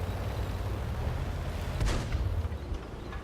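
A Jagdtiger 88 tank cannon fires in War Thunder with a single deep, heavy boom partway through, set in steady rumbling battle noise with no speech.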